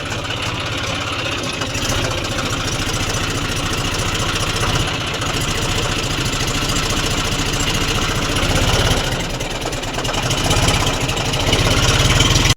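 A tractor engine running in a village farm setting, a loud, close, steady low-pitched idle with even mechanical knocking that holds unbroken throughout, with no one speaking.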